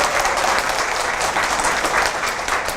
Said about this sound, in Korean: 여러분들을 위해서 박수 한번 치세요.